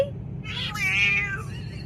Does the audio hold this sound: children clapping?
no